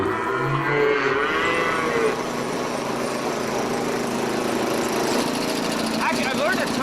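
Cattle mooing on a pioneer-style farm, a low drawn-out moo near the start over a steady engine-like drone and outdoor background noise.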